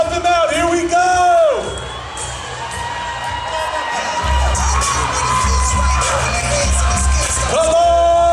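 A live audience at a Power Team strength show cheers, whoops and yells loudly and continuously. Children shout among the adults, and an announcer's voice booms over the crowd with a deep rumble underneath.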